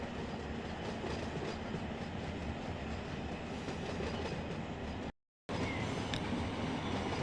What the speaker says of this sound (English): this train is hauling some butt right now, especially out of this yard.